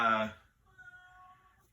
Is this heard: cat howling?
yes